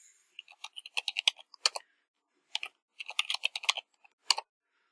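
A password is typed on a computer keyboard during network device setup, with quick bursts of crisp key clicks separated by short pauses, close and clear.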